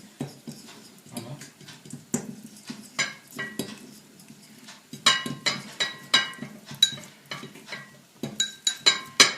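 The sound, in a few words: stirring butter and chocolate together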